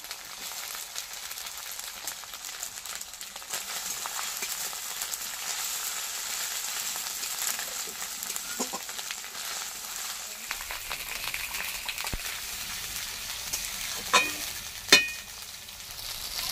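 Chopped tomatoes hit a hot, sizzling pan for Kashmiri aloo dum and get stirred, a steady close frying hiss broken by a few sharp scraping clicks near the end, with no talking.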